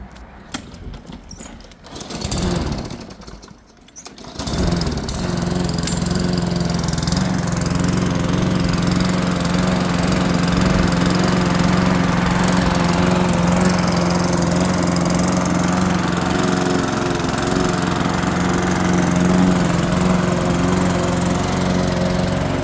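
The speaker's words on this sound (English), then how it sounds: "Now we're going to get the mower on, but we're not going to cut it too short." After a few seconds of handling noise, a lawn mower starts and settles into a loud, steady engine drone close by that runs unbroken to the end, with no talking.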